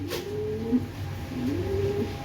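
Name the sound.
pigeons cooing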